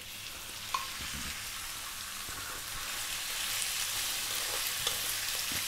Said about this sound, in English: We're just going to fry this beef around.